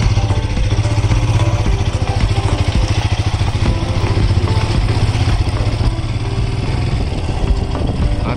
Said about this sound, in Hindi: तो हमारा बाइक स्टार्ट हो गया